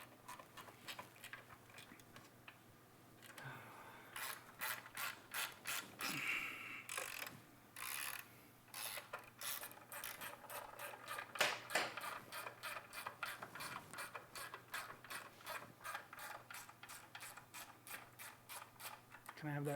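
A real ratchet wrench works a bolt near a car's heat shield during a garage build, its quick clicking pawl strokes coming in bursts over a steady low hum, with faint voices now and then.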